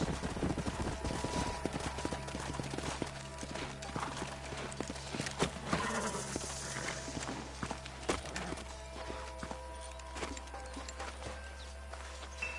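Horses clip-clopping in the Western video game Red Dead Redemption, a steady rhythm of hooves walking on ground, fairly near, over a low ambient hum with occasional faint voices.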